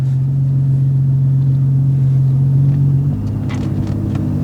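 A cheap vandalized car bought at a Copart auction, shifted into drive and pulling away: a loud, steady low engine hum and rumble close by that drops in pitch partway through as it moves off, with light rattles and no talk.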